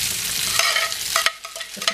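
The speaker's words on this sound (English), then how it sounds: "So we just toss that a bit in oil." Potatoes tossed and sizzling in hot oil in a pan, a loud close frying hiss broken by clattering stirs and scrapes, briefly easing as the pan is moved.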